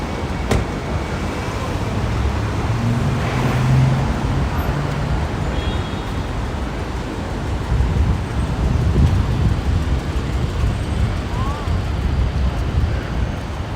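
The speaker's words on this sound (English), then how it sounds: "Traffic is out." Street traffic near Madison Square Park in New York City, a steady wash of passing cars and road noise with wind, and people talking in the foreground.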